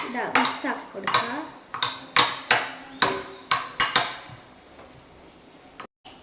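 A metal spoon clanks and scrapes repeatedly against a pot while biryani ingredients are stirred, about eight sharp, close knocks in an uneven rhythm before things go quieter and a brief dropout ends it.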